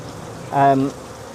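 Aggressive bees hum from an apitherapy hive pod in one short, tonal burst lasting about half a second, rising out of quiet background noise.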